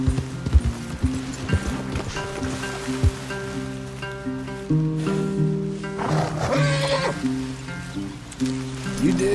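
Horses' hooves clop slowly and unevenly in the video game Red Dead Redemption 2, over a steady outdoor forest ambience, with a low rumbling drone underneath.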